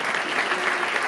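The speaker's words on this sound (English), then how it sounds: "So a round of applause for Bojan" Applause from a concert audience, a brief, dense burst of steady clapping from many hands, loud and even throughout.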